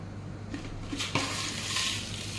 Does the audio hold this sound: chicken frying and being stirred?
yes